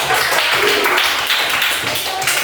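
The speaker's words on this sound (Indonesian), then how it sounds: "Sekali lagi beri tepuk tangan." Applause at a classroom teaching performance session, a dense patter of clapping from a group filling the whole moment.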